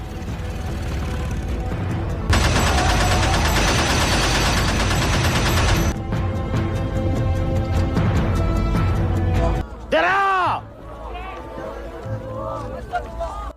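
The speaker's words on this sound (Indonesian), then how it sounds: "menakuti para santri dengan tembakan senjata mesinnya" Machine gun fire from a war film scene set in 1940s Java as Japanese troops intimidate pesantren students, a loud sustained burst of rapid shots amid shouting and crowd commotion.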